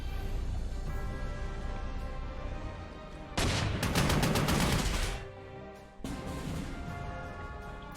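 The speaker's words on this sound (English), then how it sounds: "Oh, those anti-tank guns." Anti-tank guns firing in the Panzer Corps 2 wargame during a Spanish campaign battle at Zaragoza: a sustained burst of loud, rapid gunfire volleys lasting a couple of seconds, set against steady game music and ambience, with no talking.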